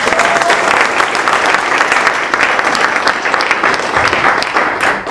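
Loud, sustained audience applause at the M-AI Summit 2018 AI conference, a dense, even wash of clapping from a full room that carries on steadily throughout.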